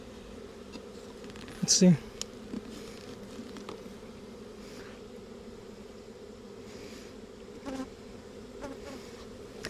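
Honeybees buzz in a low, steady drone while a bee package is installed into a hive, a faint continuous hum with a brief louder burst near the start and a few quiet words spoken.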